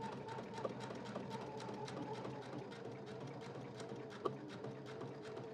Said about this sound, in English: Just stitching right along that edge.